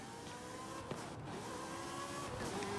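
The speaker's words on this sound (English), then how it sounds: "These Ferraris sound really mean." Ferrari engine in the racing game Forza Horizon 5, a steady droning note that shifts pitch slightly as it holds, loud and continuous for the whole stretch with no talk over it.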